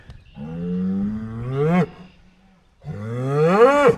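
Two long, loud bull moos sound close by, each a deep bellow that rises in pitch and breaks off, separated by a short pause, with no talk over them.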